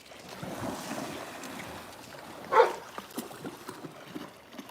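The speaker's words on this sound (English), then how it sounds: "Chief Brody, what are you barking at?" A dog gives a single bark beside the water at sunset, a short burst standing out over steady wind and the drone of a passing boat.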